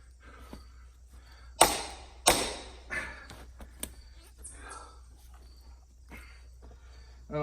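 A Fiskars PRO IsoCore 8lb splitting maul is pounded on wood: two sharp, loud impacts close together, followed by scattered lighter knocks and taps at a quiet outdoor woodpile.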